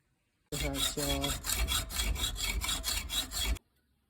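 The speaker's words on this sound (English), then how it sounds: "So I'm just going to split it in half with the hacksaw" A hacksaw rasps through a metal pipe nipple in quick, even back-and-forth strokes for about three seconds, close and loud, then stops abruptly.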